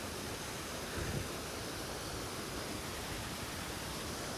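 Muchuq waterfall drops 90 to 96 metres in the Shahdag mountains, a steady, broadband roar of falling water, unbroken and constant throughout with no voices.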